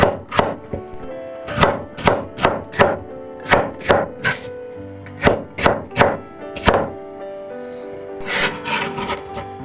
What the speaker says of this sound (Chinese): 这里不要切得太薄，大概2毫米左右就可以了，尽量切得薄厚一致